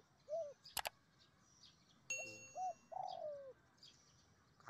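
A wild white turtle dove gives a few short, soft coos, spaced out over several seconds. A couple of sharp clicks break in between them, and no one talks.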